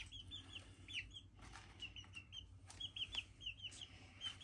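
Young chicks peep and cluck in quick, high, scattered calls across the whole clip, close and fairly quiet, with a few soft rustles and wing flutters.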